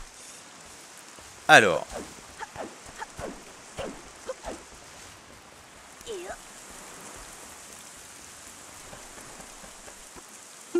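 Rain falling in the video game Zelda The Wind Waker HD, a steady soft hiss filling the background, with a brief spoken word and scattered short game sounds over it.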